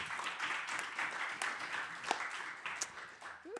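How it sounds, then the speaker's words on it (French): An audience at a French conference applauds with a steady patter of clapping that lasts several seconds. It sounds moderately distant and is mixed with faint murmuring. "Alors, vous pouvez l'applaudir."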